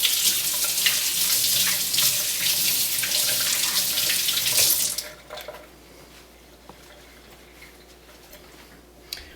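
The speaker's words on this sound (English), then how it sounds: "Give my hands a quick wash." Hands are rinsed under a running kitchen tap while making egg noodles: a loud, close stream of water for about five seconds, then stops, leaving faint clinks and quiet room tone.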